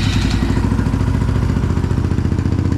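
A rebuilt KTM EXC 450 motorcycle engine runs steadily and loudly nearby, with a continuous throbbing idle and mechanical clatter and no voices.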